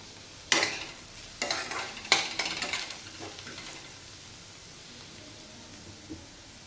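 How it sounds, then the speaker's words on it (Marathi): Onions softening in a pan, with a few sharp stirring scrapes and clatters over a low sizzle that fades into quieter frying. "कांदा छान परतलेला आहे मस्त असा मऊ झालेला आहे"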